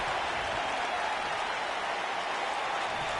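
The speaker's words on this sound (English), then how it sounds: "And Sasha Banks brings this crowd to its feet." WWE Raw wrestling crowd in South Dakota cheers and applauds for Sasha Banks, a continuous loud roar of clapping and shouting filling the arena without a break.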